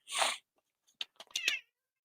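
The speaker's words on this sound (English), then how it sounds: "There's this psychotic cat in here." A cat indoors gives a quick burst of sound followed by a few short, scattered chirps and mews, close by and fairly loud with silence between them.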